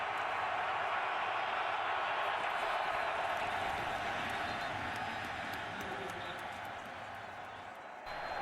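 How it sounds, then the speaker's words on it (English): Loud, steady crowd roar fills a packed stadium at a Steelers–Packers NFL game in Green Bay, a continuous wash of noise that eases slightly toward the end. "This crowd is loud"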